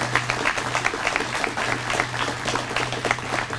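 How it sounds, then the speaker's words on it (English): An audience at a dedication gathering claps warmly, with dense, even applause from a crowd that carries on steadily for several seconds beneath a faint low hum. "give those people who got in touch with that radio station a big round of applause"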